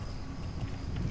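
Horse hooves clip-clop in the video game Metal Gear Solid V: The Phantom Pain, a quick run of soft, faint hoofbeats over a low background hum.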